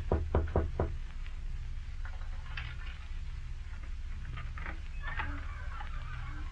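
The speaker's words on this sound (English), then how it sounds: "I knocked on the door of a den by the sea." Several sharp knocks on a wooden door of a seaside den, clustered at the start against a low, steady background rumble, followed by quieter scattered taps and shuffles.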